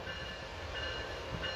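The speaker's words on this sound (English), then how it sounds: "Oh, we got a Surfliner on 3." An Amtrak Surfliner train at Fullerton station gives a steady, low rumble with faint tonal hum throughout, heard from a moderate distance with no voices.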